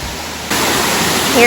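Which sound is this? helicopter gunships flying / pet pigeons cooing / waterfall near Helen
waterfall near Helen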